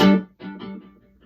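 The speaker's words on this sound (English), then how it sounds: "Or a more pronounced delay" A plucked instrumental note passed through a ping-pong delay, with the initial tone followed by several fading echoes that bounce in a quick, decaying rhythm.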